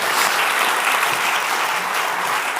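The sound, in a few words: applause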